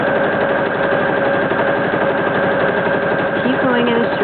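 Sewing machine stitching fabric with elastic thread to make shirring, a steady close mechanical whir running without pause for several seconds, with a brief voice near the end.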